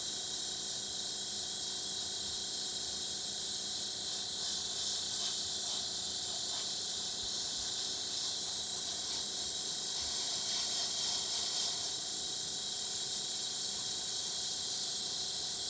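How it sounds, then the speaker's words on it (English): An airbrush sprays Kustom Service paint in a constant, fairly quiet airy hiss that runs the whole time with small flutters as the spray moves across the piece; no talking. "And you're constantly moving your airbrush."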